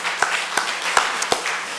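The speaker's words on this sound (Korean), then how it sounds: "하나님께 영광의 박수 돌리겠습니다" A few scattered handclaps during a church service, sharp separate claps about a third of a second apart with no voices over them.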